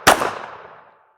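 A single handgun shot fired during recoil-control practice: one loud, sharp crack up close, followed by a reverberant tail that fades over about a second.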